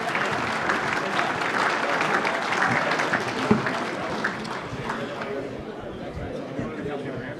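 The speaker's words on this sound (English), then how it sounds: "A round of applause for our Division 2 Team of the Year" Audience at a football club awards night applauding the Division 2 Team of the Year, a steady full-room wash of clapping with crowd chatter mixed in, fading slightly toward the end.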